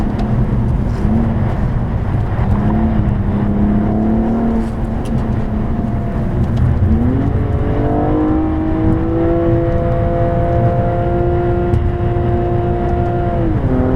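A 2014 BMW M235i on track at Las Vegas Speedway revs hard through the gears, its engine note climbing steadily, dropping briefly at a shift, then rising again to bump against the rev limiter, loud and close inside the cabin.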